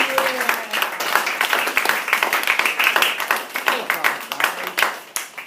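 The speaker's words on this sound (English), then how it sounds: "Big round of applause!" Students in a social studies class applauding, dense rapid clapping from many hands close by, sustained for several seconds and tapering slightly at the end.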